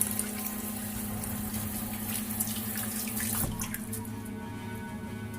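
A faucet runs steadily into a sink to re-wet the face during a wet shave, a continuous close splashing rush of water with a low hum under it and no talking.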